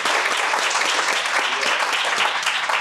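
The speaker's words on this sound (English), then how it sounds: "let's give a round of applause" A round of applause from the audience at a health equity talk on disability and aging, dense sustained clapping close and loud from start to finish.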